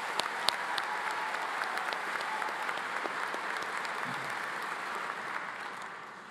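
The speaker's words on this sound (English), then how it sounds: "let us applaud Cindy Hernandez" Applause from the audience at the Belvidere High School 2023 graduation ceremony, a sustained wash of many hands clapping with a few sharper claps standing out, holding steady and then tapering off at the end.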